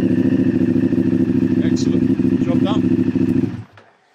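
A Ducati Diavel motorcycle engine runs close and loud with a steady, throbbing low rumble, then cuts off and falls silent near the end, with no talk over it.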